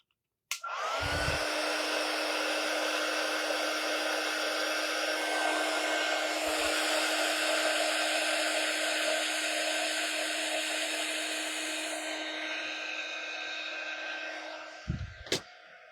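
Hair dryer blowing steadily on a Halloween tree craft, a loud continuous whir that runs almost the whole time after switching on, with a click near the start and a brief clunk as it shuts off at the end.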